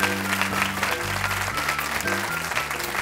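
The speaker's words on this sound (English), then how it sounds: "Round of applause for them, if you would." Audience applause for guests Angie, Jennifer and Joseph, steady and moderately loud over a bed of low, sustained music tones for a few seconds.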